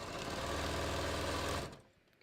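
A sewing machine stitches a shirt collar with a collar stand, its needle running in a fast, even, close mechanical whir for about a second and a half before stopping abruptly.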